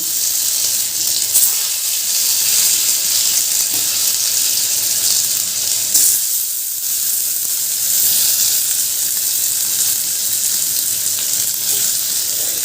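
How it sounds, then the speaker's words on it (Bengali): Potatoes fry in hot oil in a pan, a loud, steady, close sizzle that carries on without a break. "এবার এই তেলের মধ্যে আমি ভেজে নিচ্ছি আলু"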